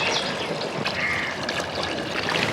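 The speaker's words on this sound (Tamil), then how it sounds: "தேவையான அளவுக்கு தண்ணி சேர்த்துக்கலாம்." Water is poured into a pot of mutton vathal kulambu, a dry mutton curry, making a soft steady trickling splash at moderate distance with faint background noise.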